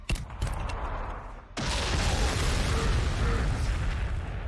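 Frag grenades exploding in Warhammer 40,000: Sanctus Reach, with a couple of sharp pops followed by a heavy, loud detonation that rolls into a sustained rumbling roar.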